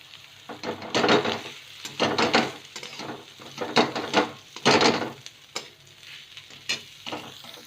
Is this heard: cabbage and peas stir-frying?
yes